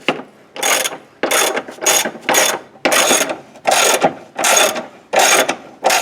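A hand ratchet tightens 17mm bolts on a transfer case drop, with about nine quick loud bursts of rapid clicking separated by short pauses, close up and with no voices.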